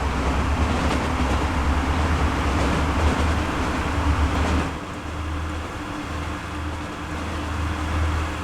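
A train rolls past in the Transport Fever 2 game, a steady loud low rumble with faint rail clatter. It drops slightly in level about halfway through and keeps rolling to the end, with no voices.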